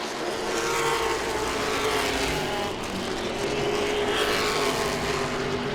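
Late model race cars roar around Langley Speedway, a loud, continuous layered engine drone from several cars close together, holding steady with slight swells as they battle for position.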